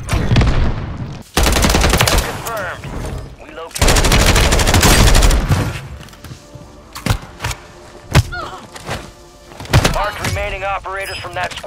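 Video game gunfire in a shooter, with long dense bursts of rapid automatic fire alternating with scattered single shots, thuds and impacts, loud and close, while voices call out over the combat.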